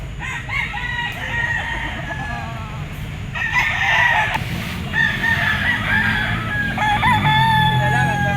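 A gray bull stag gamecock crows repeatedly at a cockfighting market, several drawn-out cock-a-doodle-doo calls rising over a constant low rumble of crowd and background noise, with other fowl clucking nearby.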